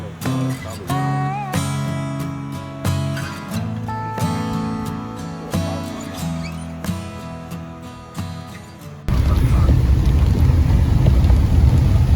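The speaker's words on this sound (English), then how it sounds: "It's raining out pretty good here." Steady broadband hiss of heavy rain at a campsite in Lisbon, New Hampshire, arriving loud and continuous after a stretch of tonal music and holding to the end.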